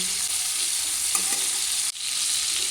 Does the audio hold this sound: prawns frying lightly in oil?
yes